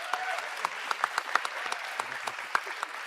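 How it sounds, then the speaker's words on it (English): A small crowd claps steadily for a few seconds, individual hand claps distinct and close, with no voices over it. "Round of applause for her."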